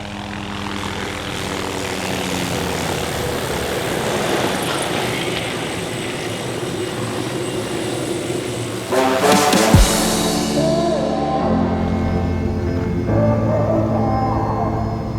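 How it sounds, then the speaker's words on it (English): An MD 530F helicopter flies nearby with a loud, steady rotor and engine drone that rises in a sharp surge near the end and then settles. "530F helicopter. One of the safest around."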